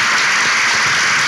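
A studio audience applauds loudly and steadily at the close of a Turkish talk show, a dense unbroken patter of clapping filling the whole short moment.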